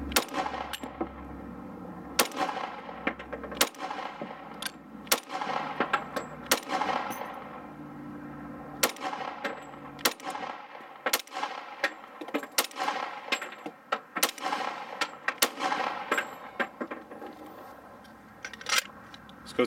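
Repeated distant gunshots, each followed by a sharp metallic ring as bullets hit steel disc brakes, fired at an irregular pace with short pauses between bursts.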